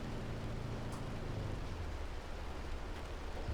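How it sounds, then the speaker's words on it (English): Hail pounds down inside a storm core during a storm chase, a dense, even roar of impacts that holds steady throughout with no voices. "Now I can't see it at all because we're in a hail core."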